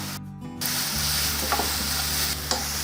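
Gooseberry chutney ingredients sizzle and fry in a pan while being stirred, with a steady hiss throughout and a few soft scraping clicks near the end; no one talks.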